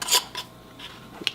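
A few quick close metallic clinks and scrapes as a boiled metal lid and screw ring are set onto a glass jar of homemade jelly, then a short pause and one final clink.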